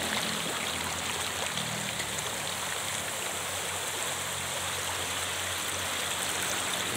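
Clear fresh floodwater flows in a continuous, even rush, a steady broadband wash with no talking.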